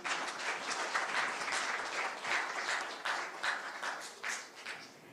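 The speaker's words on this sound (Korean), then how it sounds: "다시 한번 함께 해주신 두 분께 큰 박수 부탁드리겠습니다" Steady applause from an audience at a regional software industry awards night in Daegu, dense clapping sustained and fairly loud throughout, easing slightly toward the end.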